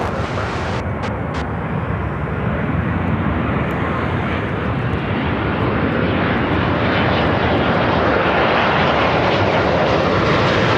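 A United Airlines Boeing 787-10 Dreamliner landing at Chicago O'Hare after a flight from Rome, its engines making a loud, continuous broadband roar that holds steady and close throughout.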